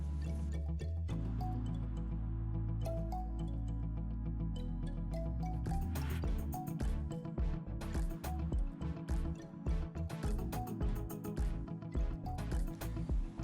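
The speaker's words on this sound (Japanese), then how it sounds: "ハウスのビニールを洗うついでにここもきれいに洗い流しておきます。" Water splashing and dripping while a greenhouse screen is rinsed down, a steady run of liquid patter and drips close by that turns busier and more splattery partway through.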